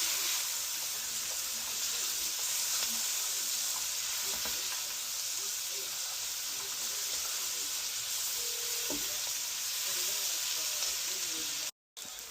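Cashews sautéing in a pan for Singapore noodles with chicken and teriyaki sauce, a steady hissing sizzle with occasional stirring clinks, moderately loud and continuous before a brief cutout near the end.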